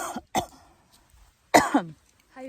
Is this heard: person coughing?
yes